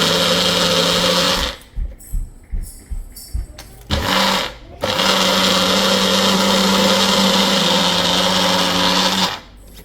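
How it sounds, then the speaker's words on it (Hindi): A Magic Bullet blender grinds whole garam masala spices, a loud steady motor whine that stutters into several short pulses, comes back briefly, then runs continuously for a long stretch before cutting off near the end. "कोई चीज़ मैजिक बुलेट की तरह नहीं पीसती"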